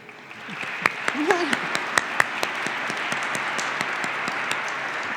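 An audience at the Oklahoma Governor's Arts Awards breaks into applause, steady broadband clapping from a large crowd that swells in and holds evenly, with individual sharp claps popping out and a voice briefly heard early on.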